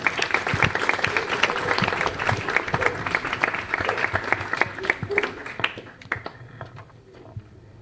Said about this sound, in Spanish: ¡Un aplauso para Martín y Gabriela!